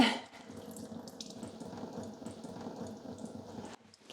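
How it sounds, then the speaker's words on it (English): Steady trickling water running and splashing as it drains from strained pumpkin, close and continuous for several seconds, then abruptly quieter near the end. "You can hear it already going like drip, drip, drip, drip, drip."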